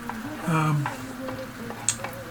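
Onions and cabbage being stirred and fried in a pan, with a soft sizzle and occasional scraping of the spoon running steadily at close range under a low background murmur.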